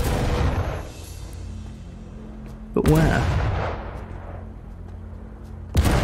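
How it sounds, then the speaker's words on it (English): Cannon fire in the VR shooter Sniper Elite VR: two loud, booming broadband blasts spaced about three seconds apart, each fading into a rumbling tail under continuous game ambience, with a voice speaking briefly. "Lads, can you stop firing that cannon?"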